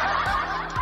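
Laughter preset played from a button on a MAONO E2 streaming sound card: a brief, close burst of snickering, chuckling laughter lasting under a second.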